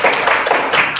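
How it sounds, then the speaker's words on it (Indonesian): A classroom of students clapping their hands together in a brief, loud burst of applause, close and dense. "Tepuk tangan buat kita semua."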